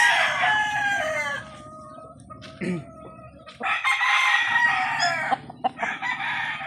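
A nine-month-old Golden Boy stag rooster crows loudly and close in a backyard, two long harsh crows separated by a short quiet gap, with clucking fowl and other birds around.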